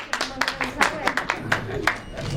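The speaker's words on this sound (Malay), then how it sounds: "Berikan tepukan Encik Rakib." Scattered clapping from a small group at a Big Stage 2022 press conference, individual claps distinct and uneven in rhythm rather than a full roar, fairly close.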